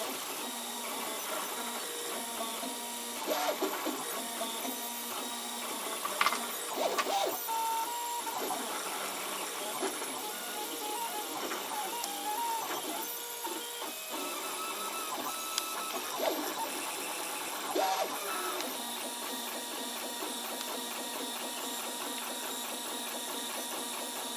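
A 3D printer works on a phone tripod mount, its stepper motors whirring and chirping in shifting pitched tones with small clicks and bumps, a steady mechanical hum throughout, no talking.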